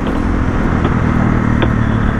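A supermoto motorcycle engine runs loud and close in city streets, a steady rough drone with no clear revs or pauses.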